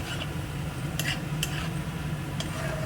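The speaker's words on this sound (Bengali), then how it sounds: "তো আলুটাকে ভেজে নিই" Potatoes frying in a pan for a tiffin dish, a soft steady sizzle with a few sharp scrapes and clinks of a utensil stirring against the pan, fairly faint and close.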